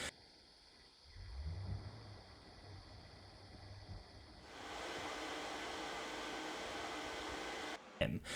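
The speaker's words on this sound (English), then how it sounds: "Now the fan can be set to spin at anywhere between 300 and 3500 RPM." The fan of a llano V10 gaming laptop cooling pad, adjustable from 300 to 3500 RPM, gives a steady close whooshing hum. It steps up to a louder, brighter rush partway through and holds there, with no talking.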